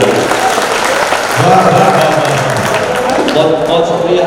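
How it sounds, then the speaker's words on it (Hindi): A mushaira audience in Malegaon applauds for Javed Seth, a loud, dense wash of crowd clapping that fills the whole stretch while voices sound through it. "एक मरतबा जावेद सेठ साहब के लिए जोरदार तालियां बजाएंगे।"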